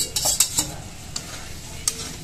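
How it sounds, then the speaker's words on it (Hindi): Ginger and garlic are stirred into hot oil in a pan, giving soft sizzling and several sharp clinks and scrapes of a spoon against the pan, with no talking. "ये अदरक लहसुन था और इसको हम डाल देते हैं, इसको भी हल्का से भूजते हैं"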